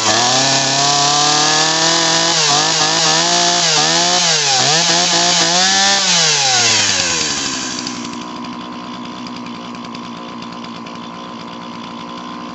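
A chainsaw fitted with a new Zama C1Q carburetor kit runs loud and close at high throttle, its revs wavering up and down, then drops to a steadier, lower idle for the final seconds.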